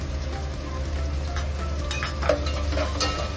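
Spices sauté in a pan on a gas stove over lowered heat while cooking chicken vade, giving a steady soft sizzle with a few light clinks and scrapes of stirring.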